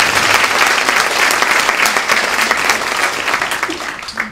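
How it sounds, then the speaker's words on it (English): Sustained applause from an audience at a Silver Arts Follies show, acknowledging the evening's sponsors; dense, steady clapping from a large crowd, fairly loud and close, lasting several seconds with no talk over it. "So let's give a round of applause to all our sponsors."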